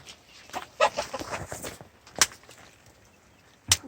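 Chickens clucking in short scattered bursts, with a couple of sharper squawks standing out, fairly close with no talking.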